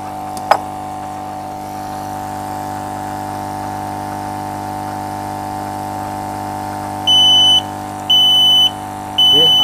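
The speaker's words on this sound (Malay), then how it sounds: "Okey, alarm dah bunyi." Smoke alarm on a home freshwater lobster farm's fogging sensor and automation system, sounding three loud, shrill beeps in a steady rhythm over a constant motor-like hum, after a brief click.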